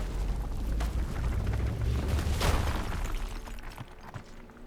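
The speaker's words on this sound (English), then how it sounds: "Rock explosion." In RuneScape: Dragonwilds a rock blows apart while mining a coal node, giving a loud booming blast with a bright crackling burst in the middle over rumbling game ambience that slowly fades.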